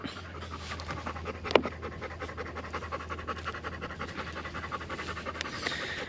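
Dogs pant rapidly and steadily close by at a ranch, a continuous breathy rhythm with one brief sharp knock partway through.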